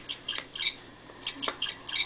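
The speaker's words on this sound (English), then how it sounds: "Good job, Mr. Parrot." A parrot gives short, sharp squawks in a few quick clusters, fairly faint and spaced over about two seconds, with no voices.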